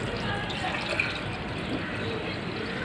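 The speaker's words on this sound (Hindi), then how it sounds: "यहाँ पर मैं पानी ऐड कर रही हूँ" Water poured into a pressure cooker holding toor dal, a quiet, continuous trickling and splashing at close range, soft and steady.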